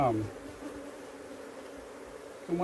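Honeybees buzzing at an open hive while it is inspected, a steady low hum close by, with brief human voice sounds at the start and end.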